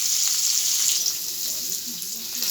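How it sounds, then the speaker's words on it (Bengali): Paneer pieces frying lightly in hot oil in a pan, a steady bright sizzle that holds at an even level throughout without a break. "এবার হালকা পনিরটাকে ভেজে নামিয়ে নেব"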